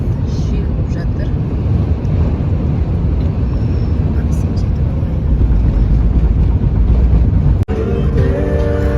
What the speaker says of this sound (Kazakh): Далада қатты жел болып жатыр